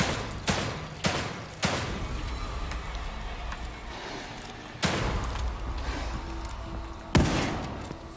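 Gunfire in the horror video game The Evil Within 2: several loud sharp shots and bursts stand out over a continuous rumbling game backdrop.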